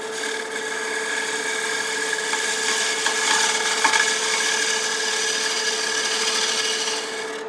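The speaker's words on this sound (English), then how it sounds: "Now let me take one more pass on smoothing this up before we sand." Wooden picture frame spinning on a woodturning lathe as a tool smooths its surface, a steady scraping rasp over a constant motor hum, close and loud, with slight surges in the cutting.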